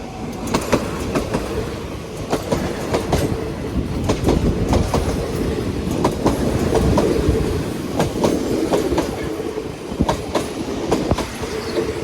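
Train No. 301 running at Bang Sue Junction station, a loud rhythmic clickety-clack of wheels over rail joints with rumbling cars passing steadily throughout.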